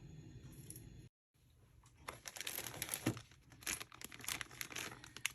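Crinkling and rustling of a plastic parts bag from a Tamiya MF-01X Ford Escort Mk.II rally kit, close and fairly quiet, with irregular crackling bursts after a short silent gap.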